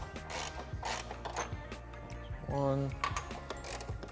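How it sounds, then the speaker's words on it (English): A hand ratchet loosens the upper control arm suspension bolts on a B-series swapped Honda Civic EP3, giving fast clicking ratchet strokes and metallic rasping up close, with one brief spoken word. "So we're going to go ahead and undo those guys there."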